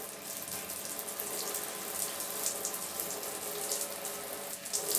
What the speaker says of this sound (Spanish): Como vieron, sale bastante agua.